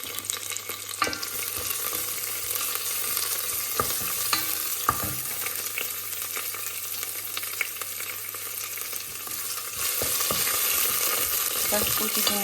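Garlic, bay leaves and parsley sizzling in a hot soup pot, a steady bright frying hiss punctuated by scattered knocks and scrapes of stirring, growing slightly louder toward the end.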